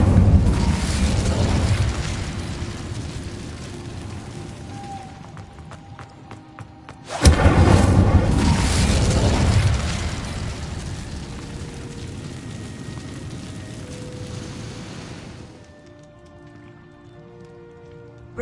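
Incendio fire spell in Hogwarts Legacy, a sudden loud whooshing burst that flares up sharply, roars for a couple of seconds, then trails off into a quieter crackling tail with a faint tonal hum after.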